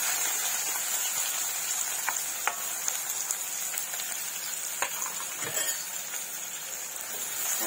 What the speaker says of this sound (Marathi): दोन मिनिटं आपण कांदा चांगला तेलामध्ये फ्राय करून घ्यायचा आहे।